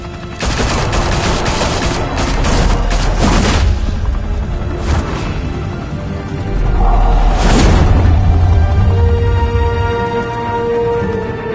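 Gunfire in the Batman Telltale Series game erupts loudly and close, with rapid bursts of shots and heavy booming impacts rolling on across a sustained firefight, with no voices.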